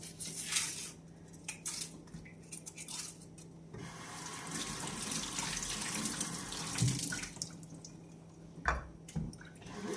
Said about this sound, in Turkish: Önce bir yıkayıp temizleyelim kabakları.